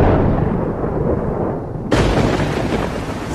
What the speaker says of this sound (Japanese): 時に雷。